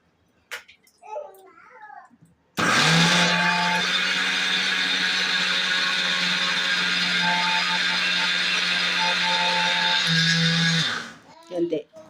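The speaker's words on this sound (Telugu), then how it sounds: "ఇక పిండి పోసుకొని ఇట్లా పిండి పోసుకొని మిక్సీ పట్టుకుందాం" Kitchen mixer grinder whirring loudly for about eight seconds as it grinds flour into a batter with water, with brief talk just before it starts and right after it stops.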